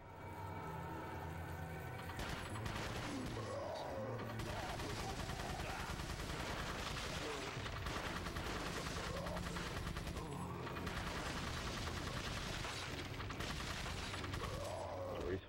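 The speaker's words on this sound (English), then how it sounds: "stave them off with his machine gun rounds here." Sustained machine gun rounds rattle through a Resident Evil 4 fight on the Wii, dense and continuous under layered game noise, with a commentator talking over the shooting.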